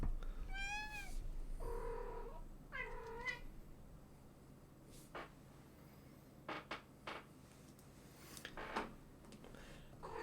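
A house cat meows several times in quick succession, fairly close and clear, followed by a run of soft clicks and knocks against a quiet room background.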